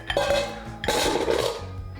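Ceramic and metal dishes clink and clatter as 70% cocoa chocolate is moved into a bowl in a home kitchen, a few sharp knocks followed by a busier burst of rattling, close and clear.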